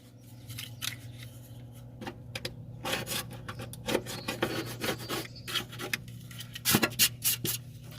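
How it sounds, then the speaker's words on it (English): Scraping old material off the floor of a 1999–2006 Jeep Wrangler TJ around the drain plug holes: close, rasping strokes in irregular bursts that grow busier and louder toward the end, over a steady low hum. "Make sure it's all scraped off here."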